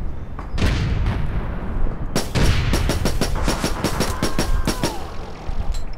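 Pistol fire in APB Reloaded, a rapid string of sharp, loud shots in uneven bursts, some spaced and some quick, close and dominant over background game sound.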